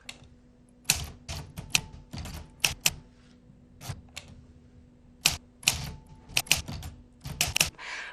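A manual typewriter clacks close by in irregular bursts of quick keystrokes separated by short pauses, with sharp individual key strikes and no voices.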